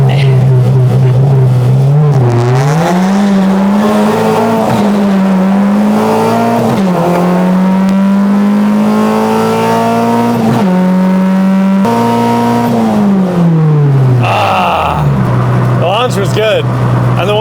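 A modified Honda Civic accelerates hard down a drag strip, its engine note climbing through rising pitch sweeps with distinct gear shifts, loud and close throughout.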